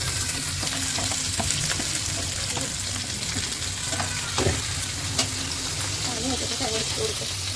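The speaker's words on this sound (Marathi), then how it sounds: "आपला ऑइल जो आहे तो असा मस्त गरम झालेला आहे आणि सगळ्यात पहिले आपण टाकणार आहोत कांदा" Onions dropped into hot oil sizzle loudly and steadily up close, with a few crackles and pops over a dense frying hiss and no one speaking.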